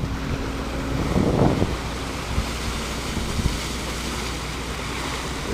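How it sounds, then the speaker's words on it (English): Water rushes out through an opened floodgate after heavy rain, a steady broad roar with a brief louder surge and a few low thumps, heard up close and alone. "Look at the water rolling down there now."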